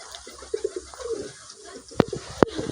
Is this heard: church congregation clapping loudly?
no